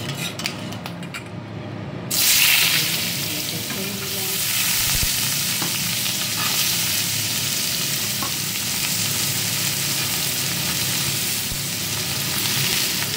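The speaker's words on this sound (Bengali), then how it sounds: "এই যে আলু আর গাজর কাটা দিয়েছি, এটাকে ছাড়বো। তেলটা গরম হয়ে এসছে" Cut potatoes and carrots drop into hot oil and fry with a loud, steady sizzle that jumps up after a quiet start and holds for the rest of the time, with occasional scrapes of a utensil against the pan.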